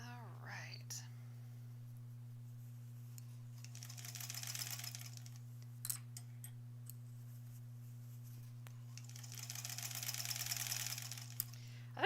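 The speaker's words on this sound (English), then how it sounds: "back to the sewing machine" A sewing machine whirs in two short bursts of rapid stitching as quilt sampler blocks are sewn together, quiet and close, over a steady low electrical hum.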